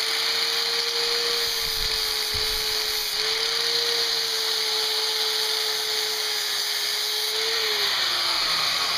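A 60 grit grinding wheel shaping the handle of an Ontario machete, with a constant high motor whine and a gritty abrasive hiss that rises and dips slightly as the handle is worked, close and steady with no talking.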